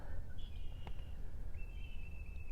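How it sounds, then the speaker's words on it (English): A few thin, high whistled bird calls drift over a low rumble of background noise outdoors, faint and sparse, with no talking. "And listen to the beautiful birds singing."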